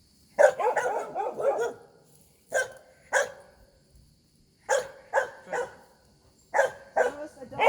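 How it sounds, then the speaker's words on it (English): A puppy barks in repeated short bursts, a quick run of yips followed by isolated barks and then further clusters, loud and close against a quiet room during a dog training session. "The barking of the puppy."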